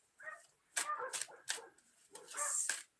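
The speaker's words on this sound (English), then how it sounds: "God, those dogs, huh?" Several dogs bark in short, loud bursts, about four or five separate barks spaced across a few seconds, fairly close and sharp against a quiet background.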